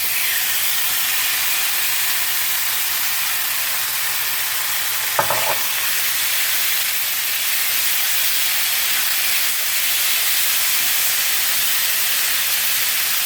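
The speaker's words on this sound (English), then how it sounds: "once our pan is nice and hot, we can go ahead and start adding our meat" Spare rib bites frying in a hot skillet give off a steady, even sizzle and hiss that runs unbroken throughout, with one brief clatter near the middle and no voices.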